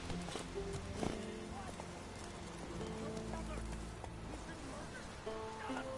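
Horse hooves clip-clop at a steady gallop in a video game, moderately close and continuous, with a voice talking over the hoofbeats.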